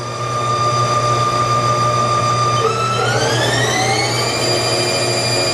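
2012 Haas TL-1 CNC lathe spindle running at 1,000 RPM, a steady machine whine over a low hum, with the pitch climbing partway through as the speed changes, loud and continuous with no one talking.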